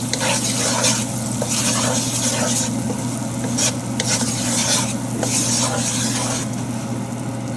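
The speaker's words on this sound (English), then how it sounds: "You can see it's still sizzling." Butter sizzling as it melts in hot oil in a pan with the heat off, a steady soft crackle with occasional stirring scrapes, alone and fairly quiet.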